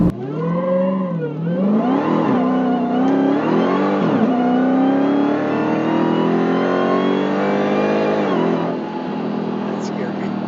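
A Dodge Challenger Hellcat Redeye and a Lamborghini Huracan launch hard in a drag race, the engine roaring loud and close with rising revs through several gear shifts over about ten seconds, under occasional talk.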